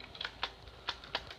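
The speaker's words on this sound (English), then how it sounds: "Sorry if you hear keyboard clicking and sounds like that." A few soft, scattered keyboard clicks during Minecraft gameplay tap out irregularly against quiet room noise.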